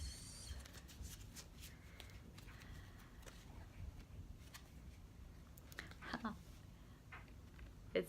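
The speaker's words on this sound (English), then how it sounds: "So I'm just gonna pick a card for us." Oracle cards shuffled and one picked during a small spring ceremony, a soft, quiet papery riffling and patter that runs throughout, close by and faint, with a slightly louder flick near the end.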